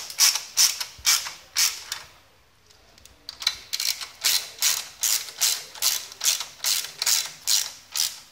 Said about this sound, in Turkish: Dikkat edin, küçük lokmayla sıkıyorum arkadaşlar.